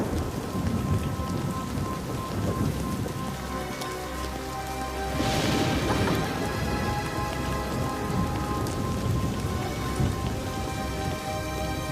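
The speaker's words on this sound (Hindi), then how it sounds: "जल्दी चलो, बारिश बहुत तेज हो रही है।" Heavy rain pours down steadily in a dense, hissing wash, with a low rumble of thunder rolling through partway.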